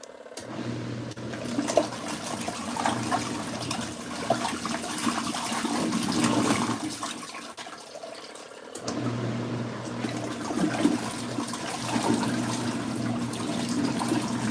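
An LG ThinQ washing machine fills with water during its rinse cycle, a steady rushing flow that cuts off briefly midway and then resumes, close and without talking.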